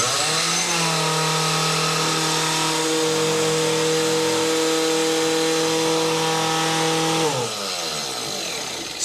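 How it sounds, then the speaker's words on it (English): A countertop blender powered by an Anker Solix C1000 portable power station runs steadily at close range with a loud motor whine, then spins down near the end. No one talks over it. "I'm gonna run this blender real quick, and I'm gonna give you a zoom in."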